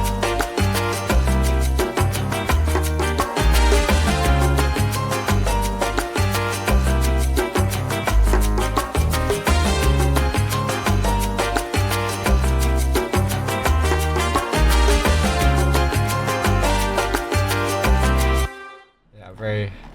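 Short electronic music loop with punchy repeating bass kicks and bright layered synth stabs, played loud and steady in a tight rhythmic pattern before cutting off abruptly near the end.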